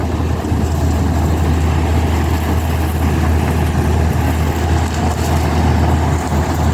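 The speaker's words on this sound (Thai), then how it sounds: "รถไถลากกระเซ้านะครับ" A tractor engine pulls a cart with a loud, steady, close drone and a deep constant hum, unbroken throughout with no talking.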